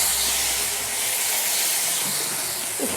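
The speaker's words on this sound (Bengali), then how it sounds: "এখন সবগুলোকে আবার ভালো করে কষিয়ে নেব।" Spices with turmeric and Kashmiri chilli powder, plus taro, sizzle and hiss steadily while frying in oil in a pan, a continuous bright crackling hiss close by with no talking.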